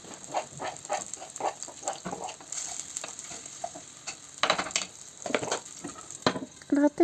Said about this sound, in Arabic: وندير البصل ديالي يتقلى